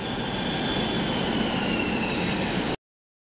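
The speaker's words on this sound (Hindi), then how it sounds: "अब मैं बैठती हूँ मेट्रो में।" Metro train running on rails, a steady loud rolling rumble with wheel noise and a high squeal throughout, close by and continuous until it cuts off abruptly near the end.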